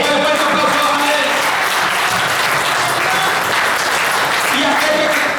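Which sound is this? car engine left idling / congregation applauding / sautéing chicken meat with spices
congregation applauding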